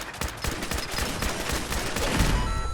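Rapid bursts of gunfire hammer a turret in Fallout 4 VR, dense and loud throughout with a slight swell near the end, no voices.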